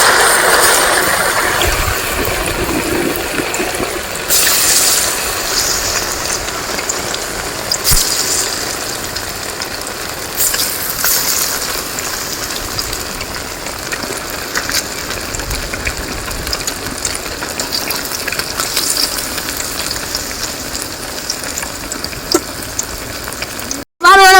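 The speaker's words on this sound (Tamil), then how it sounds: "மீனை தூக்கி எண்ணெய் நல்லா காஞ்சிச்சு. மீனை தூக்கி போட்டுடலாம்." Nethili anchovies deep-fry in hot oil at an outdoor village kitchen, a loud, steady bubbling sizzle that runs unbroken throughout with a faint mechanical hum beneath.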